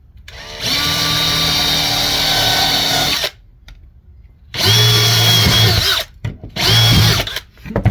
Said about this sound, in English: Drill 2 holes in the lid.